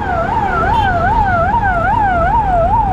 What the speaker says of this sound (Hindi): एम्बुलेंस अभी भी पीछे ही आ रही है